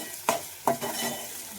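Onion and tomato fry in a pan with a quiet background sizzle. Two distinct scraping strokes of a spoon stirring the mix stand out in quick succession, with no voices.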